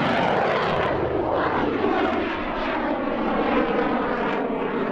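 A Yak-110 jet-powered aircraft flies at the Oshkosh airshow, its engine a loud, steady roar that rushes and shifts slightly in pitch as it passes, with no talk.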